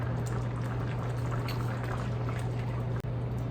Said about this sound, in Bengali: দিয়ে দিব অল্প একটু সয়া সস।